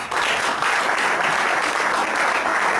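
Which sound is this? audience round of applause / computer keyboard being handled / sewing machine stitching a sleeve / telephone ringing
audience round of applause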